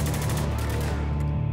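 A gunshot fired in the video game Spec Ops: The Line, a dense, sustained burst of gunfire filling the whole short moment.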